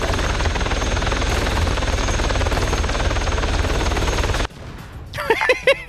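A video game helicopter roars with loud, steady rotor thrum for several seconds, then cuts abruptly to quieter ambience with a few sharp gunfire-like cracks near the end.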